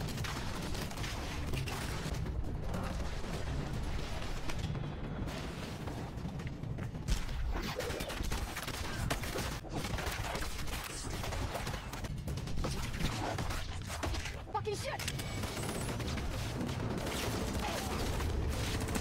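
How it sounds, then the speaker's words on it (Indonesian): Dense machine gun fire in a Korean action film battle scene, rapid overlapping shots and booms mixed with a thick soundtrack, continuous and loud throughout. "Jae-gyun dan John terlihat kesulitan melawan para witch dengan menggunakan senapan mesinnya"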